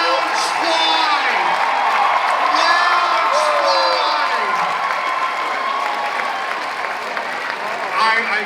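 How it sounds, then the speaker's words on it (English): A convention crowd at a Knott's Scary Farm presentation applauds and cheers loudly, with whoops rising over steady clapping and some voices carrying through the noise. "Come give her a round of applause."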